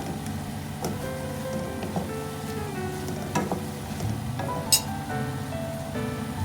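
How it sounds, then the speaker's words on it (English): Scrambled eggs and tomatoes stir-fried in a pan give a steady sizzle with a few soft scraping stirs and light clinks, heard close and without talk. "Then the last step is to mix the eggs with tomatoes."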